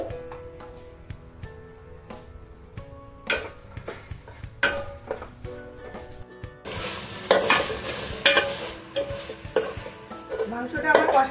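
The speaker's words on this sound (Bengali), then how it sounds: "এবার এর মধ্যে মাংসটা দেবো, দিয়ে মাংসটাকে ভালো করে কষিয়ে নেব।" Mutton stirred and fried in a pot for Kabuli pulao, with scraping stir strokes and clinks of a utensil against the pot over a steady sizzle that gets louder and denser partway through.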